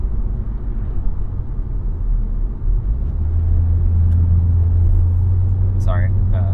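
Car cabin while driving, with a steady low engine and road rumble that deepens partway through, heard up close and fairly loud, with a brief higher sound near the end.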